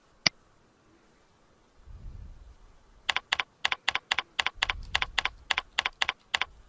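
Crisp computer keyboard keystrokes tap out a steady run of about a dozen evenly spaced clicks, close and clear in a quiet room, following a single sharp click and a soft low shuffle.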